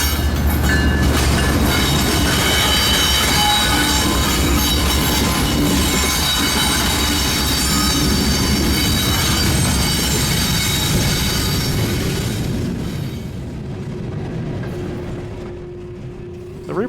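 CSX freight locomotive CSXT 1850 on a coal line leaves a yard onto a branch subdivision, its wheels squealing loudly and continuously over a heavy rumble and clatter that fade slightly toward the end.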